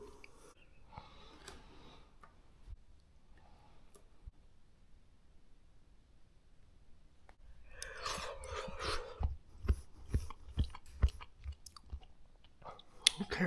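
Someone chews a carrot outdoors at a lake cabin in Alaska, a series of crisp, close crunches and bites that grow louder and more frequent toward the end, with quieter mouth sounds earlier.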